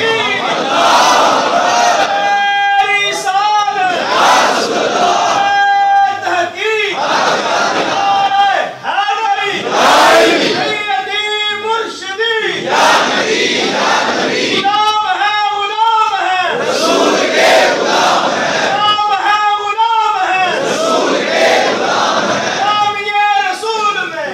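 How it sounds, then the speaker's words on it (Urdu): Large crowd at a Mehfil Milad religious gathering loudly chanting slogans in rhythmic repeated bursts, voices swelling and falling across the whole stretch, close and dense. "اب تو امت خوش ہو کے نعرے لگاتی ہے کہ غلام ہے غلام ہے"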